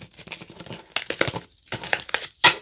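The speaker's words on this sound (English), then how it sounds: "I do shuffle these a little differently because, as you can see, I just do it a weird way" A tarot card deck is shuffled by hand in an unusual way, giving quick bursts of papery flicking and riffling in uneven clusters, close and crisp, with brief pauses between.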